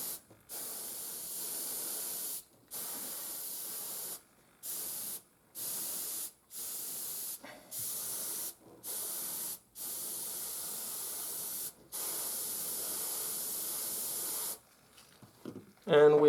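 Airbrush spraying paint onto a Panzer IV scale model in repeated hissing bursts of a few seconds each, separated by short pauses, steady and close, with a brief different noise at the very end.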